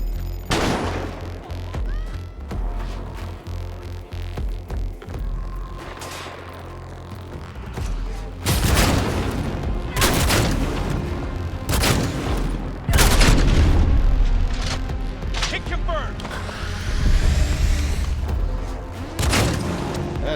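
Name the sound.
sniper gunfire in the video game Cyberpunk 2077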